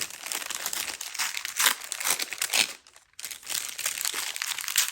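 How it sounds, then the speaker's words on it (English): Paper envelope being torn open and unfolded, a close, steady rustle and crinkle of paper with brief crunchy tears, pausing for a moment before the crumpling resumes. "now I'm going to open my day 6 on my little envelope."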